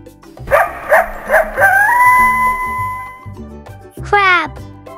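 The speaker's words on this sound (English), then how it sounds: "Coyote." A coyote yips several times in quick succession, then breaks into a rising drawn-out howl, with a final sharp descending yelp; loud and close, with a voice briefly present.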